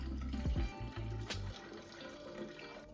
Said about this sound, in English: Place your pitcher or a large bowl in the sink, set the strainer on top, and slowly pour the lemonade through